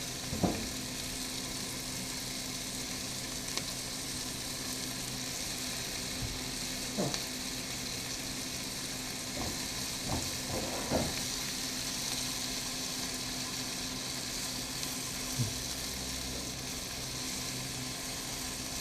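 Food frying in a hot pan as it browns, a steady quiet sizzle with a few soft clicks and clatters of stirring scattered through, no talking.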